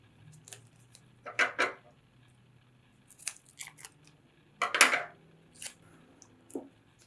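Scissors cut material for a homemade stomp rocket in several separate crisp snips and rustles, close and quiet, spaced out over a few seconds with pauses between.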